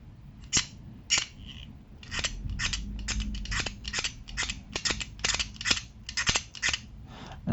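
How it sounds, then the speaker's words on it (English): A mold line is scraped off a Tau miniature model with a blade, heard as a series of sharp, close, crisp scraping clicks in irregular bursts. Nobody speaks. "you just scrape it."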